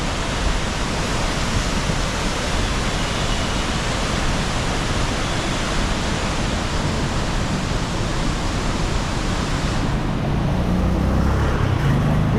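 River water swollen by monsoon rain roars past near the opened Idukki dam in Kerala, a loud, dense, unbroken rush that fills the whole clip.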